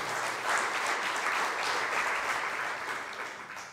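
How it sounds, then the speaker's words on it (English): A keynote audience bursts into brief, full applause, a thick wash of many hands clapping together that swells quickly and tapers off within a few seconds. "that deserves applause"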